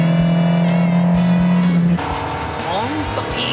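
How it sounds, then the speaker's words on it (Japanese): An old Showa-era Japanese car's engine, tuned, holds a steady loud idle-to-rev tone that drops off after about two seconds, with people talking over it in a dim forest setting. "ほんといい音してるよ、スモーキー"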